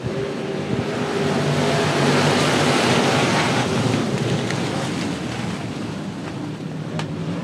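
Broad roar from a field of 18 race cars starting a 20-lap race at Cotton Bowl Speedway dirt track, heard from a distance with wind buffeting the microphone, the engine wash swelling and then easing slightly.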